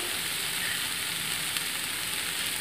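Spices, salt, ginger and garlic fry in a pan with a steady, dense sizzle that holds even and close throughout, with no talking.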